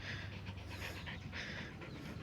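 A dog eating kulfi pants rapidly and steadily nearby, a quick rhythmic breathy huffing that continues without pause and without any talking.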